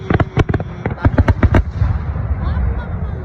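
Fireworks burst in a rapid string of loud, sharp bangs over roughly the first 1.6 seconds in Somerset, UK, then give way to a rumbling, crackling tail and lingering noise.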